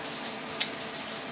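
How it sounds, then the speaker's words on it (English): A shower runs steadily in a home bathroom, a close, constant hiss of spraying water with no voices. "As you can probably hear, the shower is running behind me."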